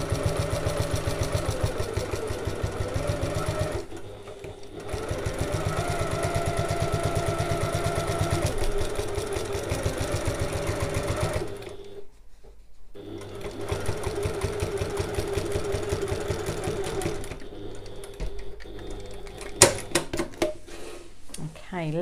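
A sewing machine stitches bag seams in long rhythmic runs with brief stops, close and loud, ending in a few sharp handling clicks.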